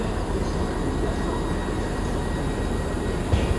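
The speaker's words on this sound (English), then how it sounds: "That train also Azuma." An Azuma train passes through a busy London railway station with a constant, broad roar. The rushing noise holds at the same level from start to finish, with a faint thump near the end.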